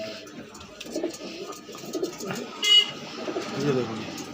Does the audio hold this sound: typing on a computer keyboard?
no